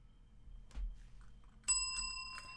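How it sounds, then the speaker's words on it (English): A doorbell rings in a few bright metallic dings near the end after a soft thump, clear and fairly close against a quiet room. "I think the doorbell rang."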